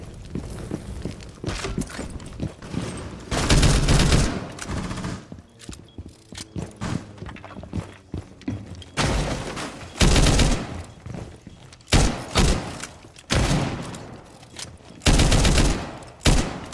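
Rapid automatic gunfire rattles through a Rainbow Six video game match in repeated loud bursts, with footsteps and thuds in the gaps between volleys.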